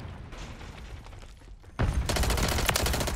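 Gunfire in the Modern Warfare 3 video game, with quieter muffled game noise at first, then a loud sudden burst of rapid repeated shots that continues steadily to the end.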